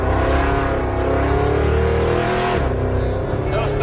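Car engine revving hard while merging onto a freeway, a loud continuous roar with rising pitch and a shift near the end, with wind and road noise mixed in.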